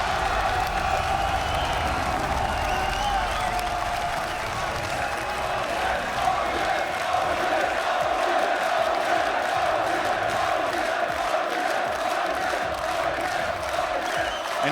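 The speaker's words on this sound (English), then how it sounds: "just hear that crowd roar for some of their hometown favorites" A large crowd roars and cheers continuously for its hometown team at the 2015 League of Legends World Championship, a dense wall of voices with whoops rising over it, loud and sustained throughout.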